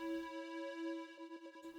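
A square-wave synth pad run through granular distortion, holding steady bright harmonic tones with a faint grainy flutter that turns into choppy, stuttering pulses near the end, heard alone.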